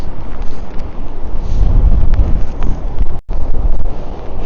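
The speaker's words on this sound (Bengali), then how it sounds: "ছাতা টিকবে না ছাতা ভেঙে যাবে প্রচন্ড বাতাস" Strong wind buffeting on a stormy seashore in Japan, a loud continuous low roar with gusty microphone rumble and a brief dropout near the end, no voices.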